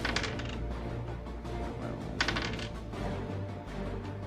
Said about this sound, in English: A lot of dice.